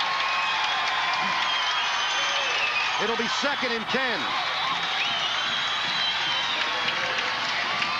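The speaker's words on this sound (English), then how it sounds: "With this crowd roaring" A steady, loud roar from the stadium crowd at a 1990 high school football game between Mesa High and Mountain View, sustained throughout beneath a commentator's talk.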